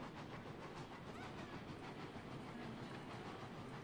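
Steam locomotive running in the train game Railroads Online, a dense, faint rumbling chug with rapid rhythmic clatter, steady and unbroken throughout with no voices.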